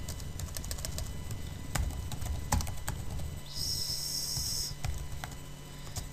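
Close computer keyboard typing, with quick irregular key clicks in short bursts over a quiet room, no voice.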